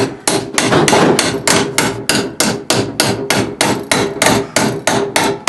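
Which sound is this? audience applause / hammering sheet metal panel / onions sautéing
hammering sheet metal panel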